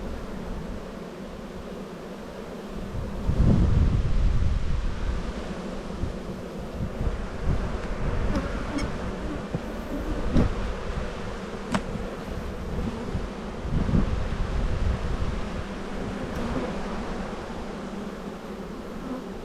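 Honey bees humming around an open hive during a spring buildup inspection, a steady low buzzing drone with gusts of wind noise on the microphone, swelling briefly louder in places.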